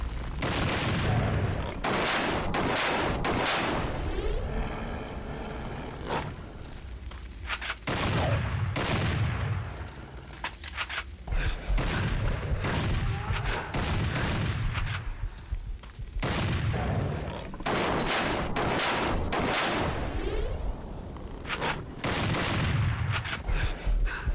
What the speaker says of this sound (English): My shooting could have been better there.